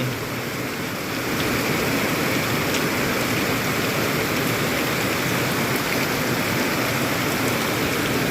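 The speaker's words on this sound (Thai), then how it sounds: "ทั้งลมทั้งฝนพ่อแม่พี่น้องเอ้ยเบิ่งได้เด้อ" Steady rain with wind during a rural outing, heard as a dense, constant hiss that lasts throughout, with no voices.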